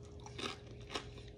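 Two quiet crunchy bites of fried milkfish, close to the ear, separated by about half a second over a low steady background hum.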